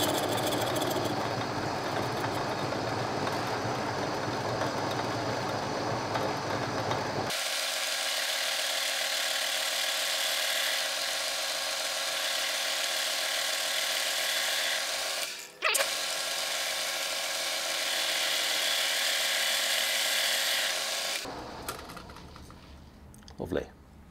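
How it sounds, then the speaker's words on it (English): Wood being turned on a metal lathe for a fire poker handle, with a loud, steady high whine and hiss of cutting that stops briefly midway, then halts with a clunk near the end. "Some people have a problem machining wood in a metal lathe"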